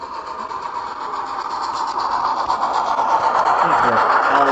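A Bachmann Plus 4-8-4 Niagara model steam locomotive fitted with DCC sound runs on a loft layout, giving a steady, moderately loud mechanical chuffing hum that grows slightly louder as it approaches.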